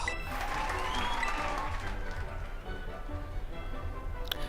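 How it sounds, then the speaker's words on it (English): Applause with clapping from followers in the Pokémon Violet video game: a dense burst of many hands clapping, loudest at the start and then settling into a steady patter, with game audio underneath. "that must have been her followers clapping and cheering"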